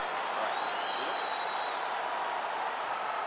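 Capacity arena crowd in the video game EA Sports UFC 5 applauding and cheering as a round begins, a steady hissing roar of clapping with a faint whistle, sustained throughout.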